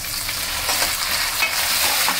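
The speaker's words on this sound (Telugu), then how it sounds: "ఇప్పుడు టొమాటో వేసుకుందాం." Tomatoes tip into a hot frying pan over already-browned onions, green chillies and whole spices for mutton dum biryani, giving a steady, close, loud broadband sizzle with faint stirring scrapes throughout and no talking.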